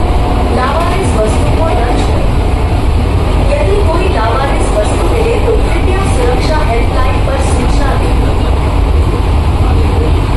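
An air-conditioned local train travels on its way toward Krishnanagar, giving a loud, constant low rumble and rolling hum throughout, with voices talking faintly inside the carriage.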